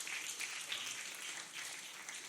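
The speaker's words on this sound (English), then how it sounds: "Round of applause for that." Steady audience applause from a crowd at a talk-show-style interview event, continuous broadband clapping at moderate level with no voices over it.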